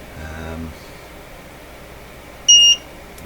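Short electronic beep from a tube testing setup, a single clear tone lasting about a quarter second after a brief low hum and faint background noise, with no talking during the beep.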